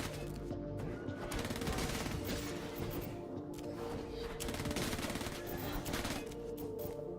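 Rapid video-game gunfire from Seraph, dense and continuous bursts of shots layered over game sounds and music, loud and sustained throughout.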